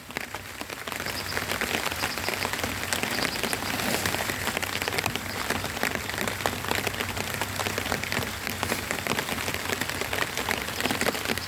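Light rain patters steadily across a farm in Paju, Korea, a dense, even hiss of drops on surfaces throughout, with no voices.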